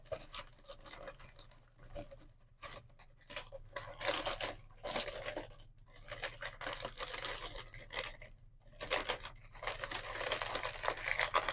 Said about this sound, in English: I'm going to roll this paper on my paper towel roll